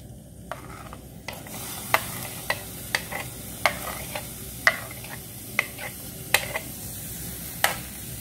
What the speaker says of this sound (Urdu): اب اس میں سب سے پہلے پیاز ڈالیں گے